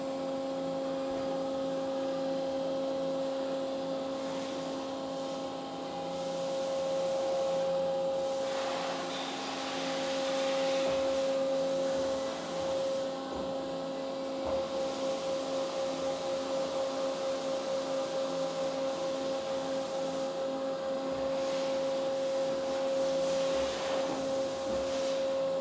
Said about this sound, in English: Shuttle indexing 15 inches. Front vise fixed, vise closes. Head swings back to our 90 degrees.